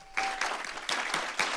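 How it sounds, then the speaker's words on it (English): Applause from faculty and staff in a university assembly hall following the announcement of a new diversity officer, short surging bursts of clapping that rise and dip, fairly close and without talk. "Applause at the beginning"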